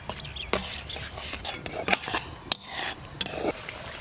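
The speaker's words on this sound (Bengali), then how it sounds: "কেটে রাখা টমেটো স্বাদ মতন লবণ দিয়ে দিচ্ছি টক দই মশলাটা ভালো করে কষাতে হবে" A spice masala with chopped tomato, salt and sour yogurt is stirred and fried in a pan. A spoon scrapes and clatters against the pan in irregular bursts over a low sizzle, with no talk.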